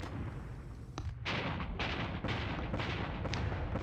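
Heavy guns fire in the wargame John Tiller's Battles of Normandy, Panzer Battles, heard as a few deep, booming blasts and crackling bursts against a dense rumbling background, moderately loud, with no talk.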